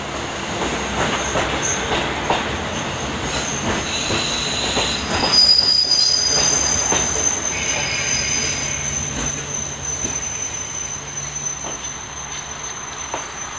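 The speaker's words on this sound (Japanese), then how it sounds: "6番線に列車が到着いたします。" A JR Hokkaido KiHa 40 diesel train rolls into a station platform with rumbling wheels and high metallic squeals, steady and fairly loud, with faint chimes in the background.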